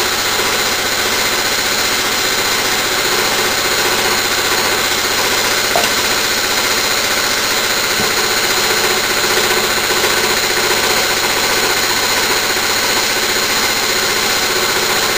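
A small oscillating (wobbler) steam engine runs with a steady, continuous mechanical noise, a broad hiss of exhaust and faint rhythmic chuffing, close by and unbroken, with no voices.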